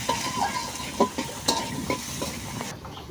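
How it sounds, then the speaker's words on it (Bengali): Chopped potatoes and onions frying in a pan for Malabar spinach, with a steady sizzle broken by several sharp knocks of a spatula stirring against the pan, close and moderately loud. "এখন এগুলো ভেজে নেবে পেঁয়াজের সাথে আলুটা ভেজে নেবে"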